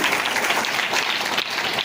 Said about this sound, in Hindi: जोरदार तालियों से इस बच्ची का इस्तकबाल कीजिए